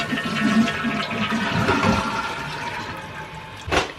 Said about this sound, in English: Once you turn your water back on, your tank's gonna refill, and what I'm gonna do is just flush it.